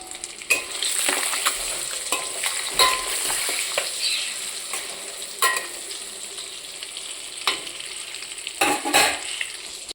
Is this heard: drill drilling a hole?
no